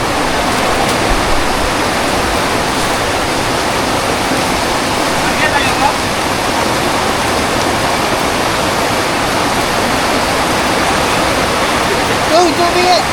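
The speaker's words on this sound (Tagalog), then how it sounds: "Uy, tubig!" River water flows in a strong, continuous rushing wash, close and loud throughout, with brief voices breaking in near the end.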